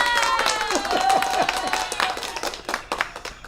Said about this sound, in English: He's going to get applause.